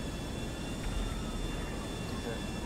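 A small airplane in Grand Theft Auto V gives off a steady, broadband engine roar that holds at an even level throughout, filling the short stretch without breaks.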